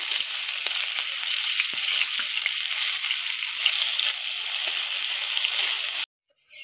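Split green chilies and chopped onion crackle in hot oil, a loud, dense, steady sizzle close by with faint stirring, cutting off abruptly near the end.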